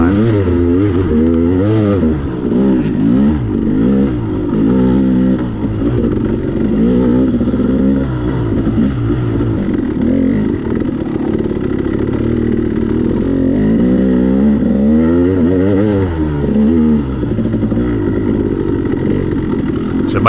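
Dirt bike on a cross-country race track at the Glacier Run, Russell Creek in Greensburg, Kentucky, a 2013 model: loud, close engine revving up and down continuously with the clutch worked over rough, low-traction ground.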